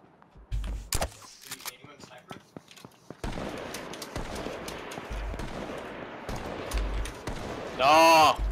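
Gunfire in the video game H1Z1: sharp single shots and short bursts crack out, some loud and close, with gaps and a rapid run of fire, under excited talk.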